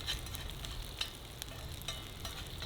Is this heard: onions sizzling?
yes